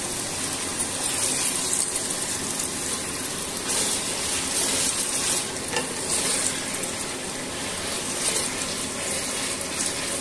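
Chopped green chillies and masala fry in a pan for aloo bhindi, a dense, continuous sizzle with steady stirring, close and even in level throughout.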